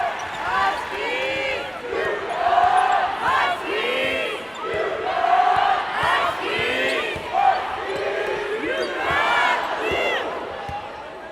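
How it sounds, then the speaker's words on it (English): Arena crowd at a college basketball game chanting a fervent call-and-response cheer, rhythmic shouted phrases rising and falling in waves, loud and continuous with some ball bounces beneath. "A fervent call and response cheer is underway."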